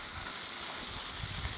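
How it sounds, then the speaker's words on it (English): Sea crab being stir fried in a pan gives a steady, dense sizzle and hiss, close and unbroken throughout with no talk. "While I am stir frying,"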